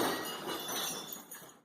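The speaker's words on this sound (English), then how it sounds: "and glass shattering from the next room." Glass shatters in a sudden crash of bright, crackling shards that tinkle and scatter before quickly fading away in a short burst.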